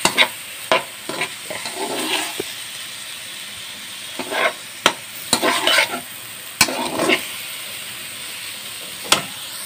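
Frozen potatoes and peas, already stir-fried once, being stirred in a pan on the stove: intermittent scraping and stirring bursts over a steady soft sizzle and hiss, close and fairly quiet.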